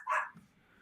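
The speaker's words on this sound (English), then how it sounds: "Sorry about my dog right here." A dog gives a single short, sharp bark close by, followed by a brief faint rustle and quiet background.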